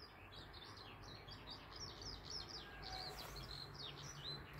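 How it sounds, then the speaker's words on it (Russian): Several small birds chirp and sing steadily outdoors on a foggy winter morning, their high, fairly faint calls repeating over a constant low background hum, with no talking. "Слышите, как птички поют?"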